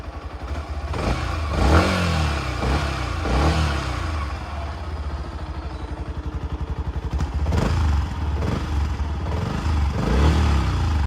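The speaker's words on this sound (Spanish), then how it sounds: "Y ahora pasemos con su motor de esta moto." A Yamaha WR 155 motorcycle engine idling with a loud, close rumble, revved several times in quick bursts before settling back to a steady idle.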